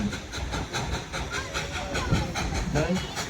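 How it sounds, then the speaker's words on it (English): Steam engine number 70 of the Dollywood train pulls carriages up a mountain, with rhythmic chuffing pulses and rail clatter under a steady hiss, while a voice talks over it. "listen to the engine as she pulls us up the mountain"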